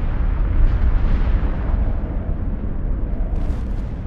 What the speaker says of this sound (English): The sun erupted in a series of massive explosions called coronal mass ejections